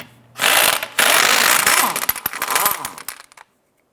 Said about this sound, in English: Using a 17mm socket, go ahead and remove your lug nuts.